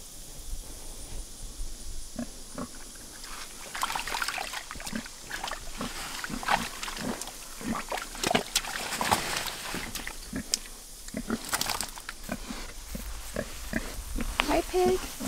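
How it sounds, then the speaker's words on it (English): A pig on a bison ranch grunts in short, repeated oinks scattered through the passage, close by, while people talk at intervals. "Hi, pig."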